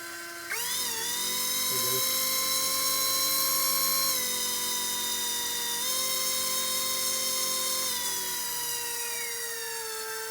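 An RC BO-105 model helicopter's electric motor runs steadily at close range, a loud sustained high whine with rising and falling pitch as it spins up and holds.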